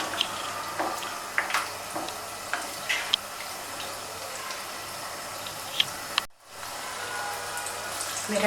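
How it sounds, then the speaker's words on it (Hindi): Falafel fry in oil with a continuous close hiss and scattered sharp pops and ticks. The sizzle cuts out briefly near the end, then resumes. "ठीक है, हम इसको फ्राई करते हैं।"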